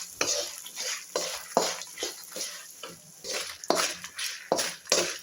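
Asafoetida and chillies fry in hot oil, a close crackling sizzle with rhythmic scraping strokes of a utensil stirring in the pan, repeated about every half second at a moderate level.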